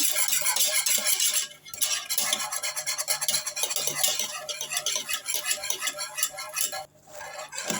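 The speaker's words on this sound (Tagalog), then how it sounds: "haluin na natin hanggang, hanggang sa lumapot na yung ating mm, ginawa condensed milk" A spoon stirs homemade condensed milk in a pot, giving rapid, rhythmic scraping and clinking close by, in steady strokes with a couple of brief pauses.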